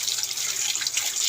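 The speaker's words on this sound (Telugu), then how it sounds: "వాటర్ ఆన్ చేసుకొని" Kitchen tap running water over salted cut vegetable pieces in a sink, a steady close splashing hiss without pause, no voices.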